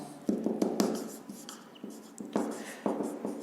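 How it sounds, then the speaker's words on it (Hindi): Writing on a board during a lecture, a series of short scratchy strokes and taps in uneven rhythm, close and moderately loud, with no talk. "थोड़ा सा इसको इधर लिखता हूं"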